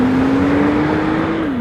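A 580 BHP Porsche 911 Turbo S launches off the line, its engine holding a loud, steady droning note close by that dips slightly at the very end as it pulls away.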